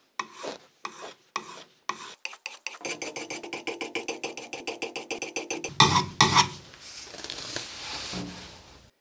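A kitchen knife tip is pulled across a 400-grit whetstone to reshape the point. Close, rhythmic rasping strokes quicken into a rapid series, then give way to a few longer, heavier grinding passes.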